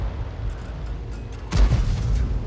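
A single heavy boom of M44 or M53/M55 self-propelled artillery firing in a tank video game, a deep low burst rising out of a quiet mechanical background.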